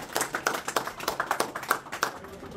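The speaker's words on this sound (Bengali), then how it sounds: "ওনার একটি করতালি দিতে।" Several people clap for a teacher at a community gathering of expatriates, an irregular patter of distinct nearby handclaps that stays fairly sparse for a couple of seconds.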